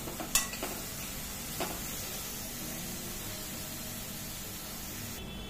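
Spices with turmeric and coriander powder being stirred in a frying pan: a faint steady sizzle with a couple of sharp utensil scrapes and taps near the start, otherwise quiet hiss.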